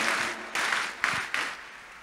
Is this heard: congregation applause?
yes